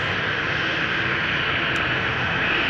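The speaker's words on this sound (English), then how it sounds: "KLM flight 987 going to London City, Embraer 190." A 13-year-old KLM Embraer 190 jet departs from the Polderbaan runway at Amsterdam Schiphol, its engines giving a steady, even roar throughout.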